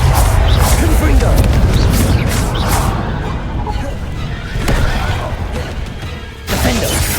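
Confringo fire-blast spell cast in the Hogwarts Legacy video game: loud crashing and booming bursts with whooshes over dense game action, with a person talking throughout.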